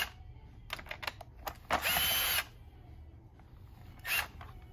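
Screws being removed from a Dyson vacuum power head: a few light clicks and taps, then a short whirring burst of about a second, like a powered screwdriver, and one more brief burst near the end, all close by.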